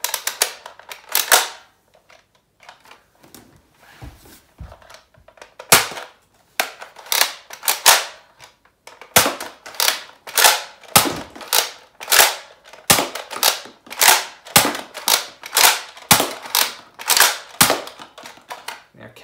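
A Nerf Rukkus ICS-8 toy blaster fires foam darts, producing sharp, close snapping pops in irregular runs: scattered single shots at first, then faster, denser volleys toward the end.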